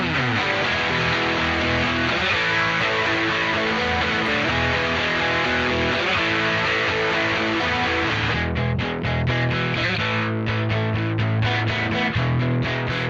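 Guitar parts panned hard left and right for a wide stereo spread, playing as a dense, continuous full-band texture that stays loud throughout and thins briefly near the end.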